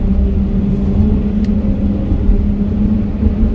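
A car crossing the steel grate deck of the Mackinac Bridge in fog gives a steady, loud droning hum with a low rumble, continuous and unbroken, with no talking.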